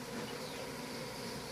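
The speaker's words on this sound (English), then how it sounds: "That's a big swarm, bro." A swarm of bees buzzes in a dense, steady drone, quiet and continuous throughout the short moment.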